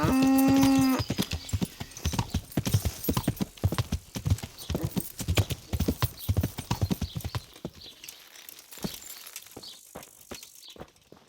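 A tonal call opens, then rhythmic horse hooves clip-clop at a walking pace, close and steady, fading toward the end, in the video game Kingdom Come: Deliverance.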